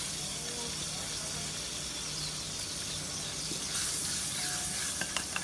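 Tomatoes and green chillies sizzling in masala in a pan, a steady close frying hiss with stirring scrapes and a few clinks near the end, with someone talking over it.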